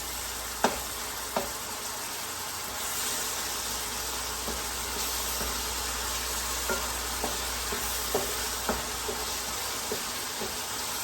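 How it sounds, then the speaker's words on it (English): Ground beef and ground sausage sizzle steadily in a pan under a constant frying hiss, with intermittent scrapes and clacks as the meat is stirred and mixed around. "Just keep mixing it around until all the ground beef and the ground sausage gets nicely browned."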